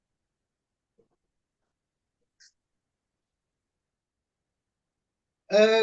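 A short cat-like vocal cry bursts out at the very end, loud and close, after a few seconds of near silence with a couple of tiny faint ticks.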